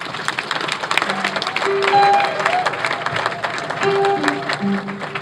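Applause from the audience at a Ngambé association meeting rolls on steadily as a moderate crowd wash, with faint murmuring and some tonal background sounds mixed in.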